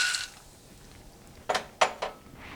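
Peanuts and roasted gram dry roasting in a pan, stirred so a few quick metallic clinks and scrapes ring out against the pan, fairly faint and near, over a quiet background.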